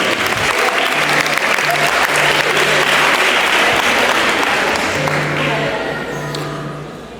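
A church congregation bursts into loud, dense applause, a thick continuous roar of clapping that holds steady before slowly easing off, with voices mixed in.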